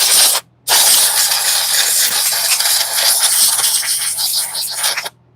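A compressed-air nozzle blasts debris off a Stihl MS 500i chainsaw after cutting a large juniper log, a loud close hiss broken by one brief pause before resuming and cutting off.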